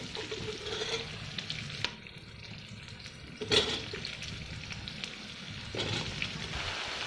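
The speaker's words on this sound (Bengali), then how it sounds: "এখন দিয়ে দিব আমি লাউ।" Bottle gourd tipped into a hot pan and frying, a steady close sizzle with stirring scrapes and a sharp clatter around the middle, no voices.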